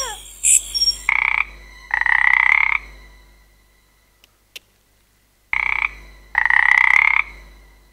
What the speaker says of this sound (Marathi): अरे बेडकाचा आवाज येतो.